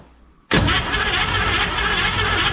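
A 1955 Chevrolet 210 engine fires up after half a second of near quiet, catching abruptly into a loud, rough, rumbling run that stays steady and close, with no voices.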